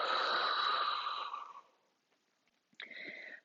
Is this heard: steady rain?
no